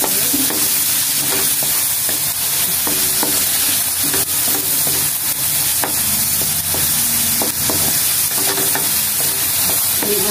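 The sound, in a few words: onion and garlic sautéing in a frying pan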